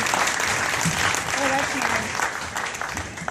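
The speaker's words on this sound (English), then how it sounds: "I think it'd be worthwhile giving them a round of applause as well." A crowd applauds at a baseball hall of fame ceremony, with sustained clapping that continues evenly while faint voices and a brief whistle-like tone sit within it.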